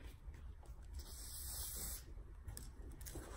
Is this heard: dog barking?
no